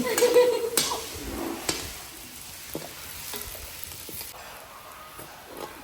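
Curry leaves frying in a pan over a wood-fired stove, an opening burst of crackle that settles into a softer hiss, broken by a few sharp knocks and scrapes.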